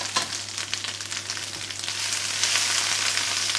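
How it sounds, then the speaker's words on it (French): Steady sizzling of ginger frying in sesame oil in a pan as it is stirred, a continuous bright hiss with faint scraping, close and unbroken with no talk. "on va bien le remuer pour qu'il ne colle pas"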